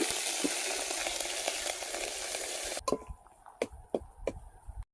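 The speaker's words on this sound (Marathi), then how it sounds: "तेलामध्ये वाटण आपल्याला चांगलं परतून घ्यायचं आहे" Stone-ground spice paste frying in oil over a wood-fired stove, a loud dense sizzle that suddenly drops away, followed by sparse clicks and scrapes of stirring.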